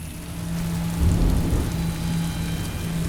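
Heavy rain pours steadily onto a street, a dense hiss with a deep roll of thunder swelling in the middle and a steady low hum underneath.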